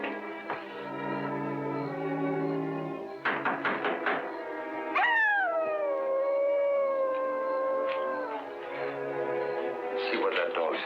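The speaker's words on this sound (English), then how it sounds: "See what that dog's howling about." A dog howls outside a house at night in a 1945 Dick Tracy serial. Long, rising and falling howls sound at a distance under a music score, with brief knocks scattered through them.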